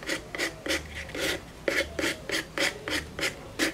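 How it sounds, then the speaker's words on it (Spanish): Sandpaper rasps rhythmically over a cardboard butterfly coated with filler, about a dozen short scratchy strokes in quick succession, close and clear with no talking. "Ahora le estoy dando una lijadita para definir más la mariposa."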